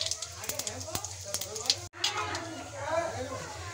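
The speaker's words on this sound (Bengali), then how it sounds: "কড়াইতে তেল গরম হয়ে গেছে, এখন আমি ফোড়ন দিয়ে দিচ্ছি" Whole spices tempering in hot oil in a kadai, with bay leaf, cumin, cinnamon and cardamom, give a close crackling sizzle with sharp pops. A brief cut is followed by a broader hiss, and a voice talks over it.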